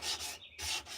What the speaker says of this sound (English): Amazon sanding blocks, they're called.